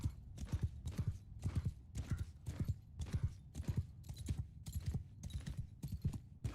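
Horse hooves gallop in Mount & Blade II: Bannerlord, a quick, even clip-clop beat repeating throughout at a fairly low level.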